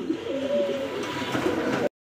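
Racing pigeons cooing in a loft, a close, soft, rolling coo repeated over a murmur of background noise, cutting off abruptly at the end.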